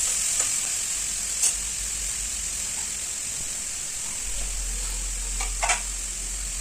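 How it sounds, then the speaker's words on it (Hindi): Asafoetida, cumin and fenugreek seeds are tempered in hot oil, making a steady, fairly quiet sizzle with a few faint crackles and stirring sounds on top. "थोड़ा सा हींग डाल देती हूँ और बघार कर देती हूँ हींग और जीरा मेथी डाल के।"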